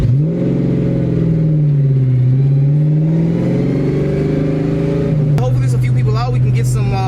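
A supercharged Ford Fox Body Mustang with a Flowmaster exhaust rumbles loudly and steadily up close, its low drone rising and falling with the throttle, then settling into an idle near the end.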